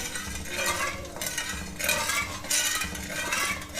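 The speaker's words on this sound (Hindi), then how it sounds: "चमचा हिलाते जाना उस वक्त तक जब चीनी अच्छी तरह मेल्ट हो जाए" A spoon scrapes and swirls through besan barfi mixture in a pot as sugar melts, in steady repeated strokes with soft sizzling underneath, close and continuous with no talk.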